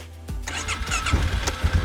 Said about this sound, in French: Et ça démarre tout seul.